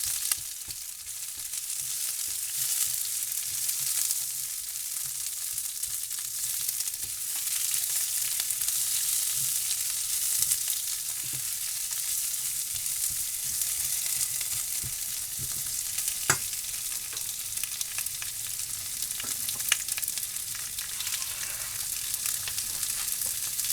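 Onion and mustard seed frying in oil for a beef curry, a loud continuous sizzle with occasional small sputters and pops, close up and without talk.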